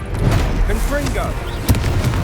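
A Confringo fire spell explodes in Hogwarts Legacy with a short, booming burst, heard over continuous game sound and a speaking voice.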